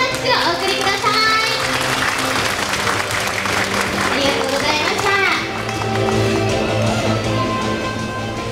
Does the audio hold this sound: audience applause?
yes